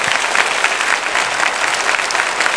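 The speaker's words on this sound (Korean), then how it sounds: "우리 환영의 박수 치겠습니다." A church congregation claps in welcome during a Sunday worship service. The applause is dense, even and sustained, filling the hall without pause.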